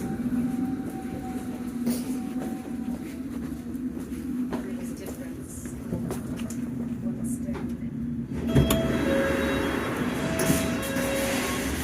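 Steady low rumble of a London Underground Metropolitan line train running near Moorgate, with a sharp metallic burst near the end and a recorded announcement voice over the noise.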